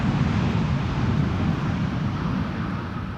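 A Boeing 787-9 Dreamliner lands at Amsterdam Schiphol with thrust reversers, a steady low roar of engine and rushing air heard at a distance, fading slightly toward the end.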